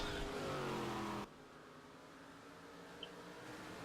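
A race car in Game Stock Car 2012 at Jacarepaguá roars with a loud, steady engine note that cuts off abruptly after about a second, leaving quieter background noise.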